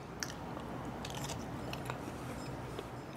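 Someone bites into and chews a grilled sausage cooked over Kingsford charcoal, with close, steady crunching and mouth sounds throughout and no talking.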